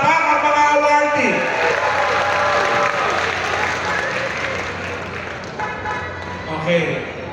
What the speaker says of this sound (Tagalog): At ang mga awardee, pumalakpak ang mga awardee.